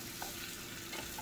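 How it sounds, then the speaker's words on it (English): A tortilla fries in vegetable oil in a pan, giving a steady, dense sizzle with occasional soft pops and stirring, fairly quiet and continuous. "this is a tortilla. I'm just frying it in some"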